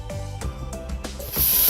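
A Vapor Rhino 200 PSI commercial steam cleaner runs at full capacity in dry vapor mode, giving a steady close hissing spray of steam that builds louder toward the end.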